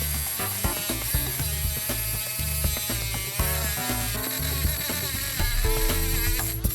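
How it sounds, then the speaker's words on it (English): A Dremel rotary tool cuts USA Trains model railroad track with a continuous high buzzing whine, close and fairly loud, its pitch wavering and stuttering as the cutting wheel bites into the rail. "we cut the old track with a Dremel tool"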